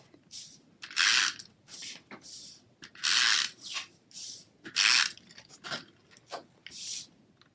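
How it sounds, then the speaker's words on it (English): A snail adhesive tape runner rolls across paper in a series of short ratcheting, clicking strokes with pauses between them, up close, and no voices are heard. "I'm just going to adhere this down with some snail adhesive"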